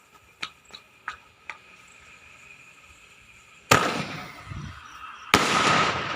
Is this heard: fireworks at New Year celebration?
yes